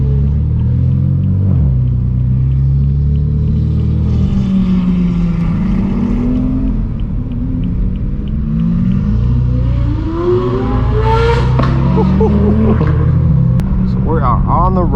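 A straight-piped BMW M4 F82 drives loudly among supercars, including a Diablo and a GT3, with deep booming exhaust drone and rising revs, under continuous talk.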